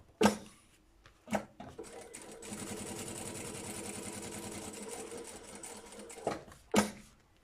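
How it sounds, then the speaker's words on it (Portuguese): Sewing machine stitching elastic onto a pencil case, running a steady mechanical whir for about five seconds, framed by sharp clunks and handling knocks at the start and end. "Nós temos que o costurar mesmo em cima da linha que nós fizemos anteriormente"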